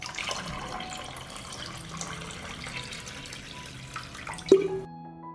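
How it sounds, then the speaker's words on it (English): Hot water is poured into a pot holding glass jars with a cloth at the bottom, a steady splashing trickle that ends with a brief clink before falling silent. "I pour hot water up to the height of the lid."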